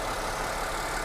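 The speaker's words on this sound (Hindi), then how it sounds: "ये 3700 सीसी V6 इंजन है" A 2004 Mercedes S350 with a 3.7-litre V6 idles steadily, giving a smooth, even low hum with broadband hiss and no change in rhythm throughout the short stretch.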